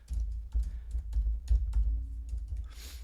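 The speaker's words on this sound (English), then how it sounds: "I will just start typing" Rapid, uneven clicking of keys on a computer keyboard, close by, in a steady flurry of taps with brief pauses.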